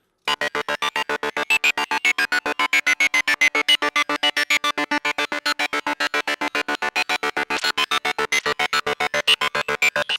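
Rapid, evenly pulsed electronic tones through a delay effect repeat in a fast mechanical rhythm, each burst echoing into the next, bright and continuous throughout.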